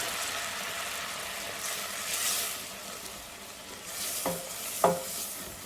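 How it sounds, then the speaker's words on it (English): Flour roux for a Sicilian lasagna being stirred in a pan over very low heat, giving a soft continuous scraping hiss with a couple of sharper utensil knocks near the end. "Keep stirring at very low heat."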